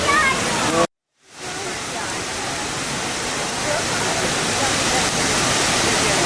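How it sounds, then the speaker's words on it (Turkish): Girlevik waterfall roars steadily and loudly close by as a dense, continuous rush of falling water, with one brief dropout near the start; faint voices may sit beneath it. "Şelalemiz çok güzel."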